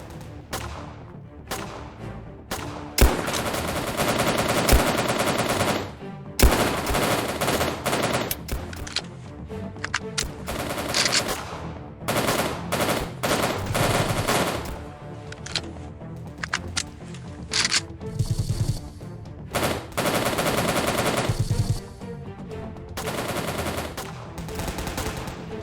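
Enemy soldiers fire guns in a Soviet-themed video game battle, with loud, dense bursts of rapid automatic fire and single shots crackling in clusters, separated by brief lulls, and no talking.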